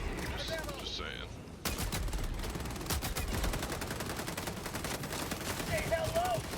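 Sustained machine gun fire from the video game Helldivers 2 hammers on continuously in a dense, steady stream, with distant explosions and battle noise, and a voice briefly heard over the din.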